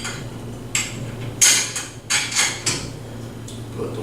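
Nuts, bolts and washers are fitted while assembling a Reign360, making a string of close metallic clinks and taps at an uneven rhythm over a low background hum.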